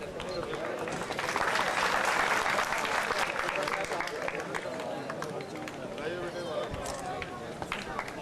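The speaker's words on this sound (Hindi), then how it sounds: "एक बार जोरदार तालियां बजाकर आप उनका भी स्वागत करिएगा" Audience applause welcoming a poet at a kavi sammelan in Dewas, Madhya Pradesh: dense, loud clapping from a large crowd, swelling and then holding steady, with crowd voices mixed in.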